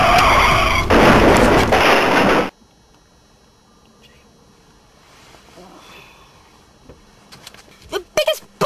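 A car skids with a loud tire screech for a couple of seconds, then cuts to a quiet stretch with faint rustling and a few sharp bumps near the end, suggesting impact debris.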